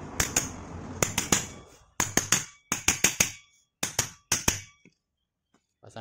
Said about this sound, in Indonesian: Ini kita ketok dulu biar masuk nanti kancingnya.